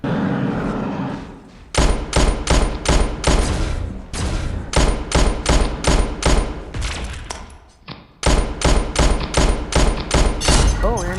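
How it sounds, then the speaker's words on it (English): Rapid revolver gunfire in the mobile shooter game Pixel Gun 3D, loud bursts of shots in quick succession with brief pauses between volleys, close and dominant. "I'm going to try to get him with the fan's revolver"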